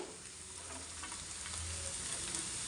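Carrot pieces fry in a pan for a carrot fry dish, giving a steady close sizzle and crackle that swells slightly toward the end, with no voices.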